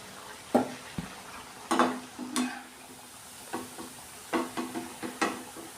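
Kothimbir vadi, coriander fritters, frying in a pan with soft sizzling and a series of scraping, stirring clinks from a utensil at irregular intervals, close and moderately loud.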